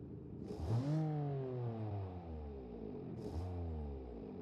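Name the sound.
3-cylinder 1974 family car engine revving, from a video game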